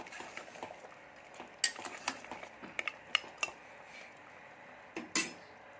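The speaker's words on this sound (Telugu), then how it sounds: "ఇప్పుడు కొద్దిగా కొత్తిమీర వేద్దాం వేసేసారి బాగా కలపాలి" A spoon stirs mutton curry in a pot after coriander is added, giving soft scraping and a string of sharp metallic clinks, irregular and close.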